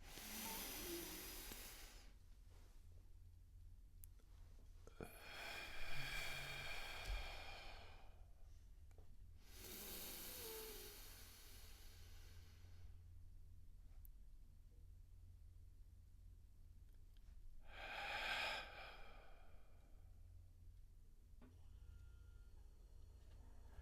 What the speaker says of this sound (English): deep breathing like this.